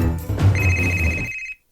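A cellphone rings with a sustained electronic tone, loud and close, lasting just over a second before cutting off into silence.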